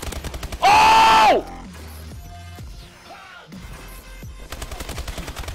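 Video game gunfire: rapid bursts of shots at the start and again at the end, split by a single loud sharp blast, with quieter scattered shots and effects in between.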